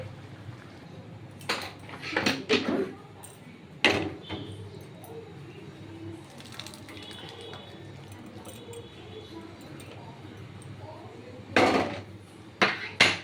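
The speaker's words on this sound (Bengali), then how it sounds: "আমি ঢেলে দেখাচ্ছি আপনাদের অন্য পাত্রে" Pea and potato ghugni is tipped from one pot into another, marked by scattered metal clanks and scrapes of utensil against vessel in short bursts, separated by quiet stretches with a low background hum.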